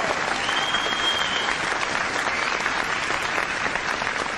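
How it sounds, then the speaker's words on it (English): An audience claps steadily and loudly throughout a live paranormal investigation broadcast from cellars, a dense unbroken round of applause from a crowd. "Give Jolie a round of applause."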